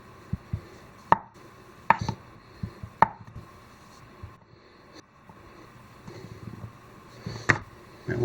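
Knife dicing venison on a board for snack sticks, a handful of sharp, spaced chops and taps over quiet background noise.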